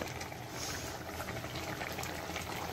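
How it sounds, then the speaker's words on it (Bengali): Fish curry sauce bubbles steadily in a pan, a close, continuous simmering burble with fine popping and hiss. "এই যে দেখেন ঝোলটা হয়ে গেছে, ঝোলটা একটু ফুটবে"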